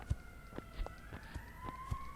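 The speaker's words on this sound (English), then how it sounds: "Oh my god, this siren." A siren in a horror video game, a steady rising tone held throughout over repeated soft thumps and footsteps, moderately loud in the game mix.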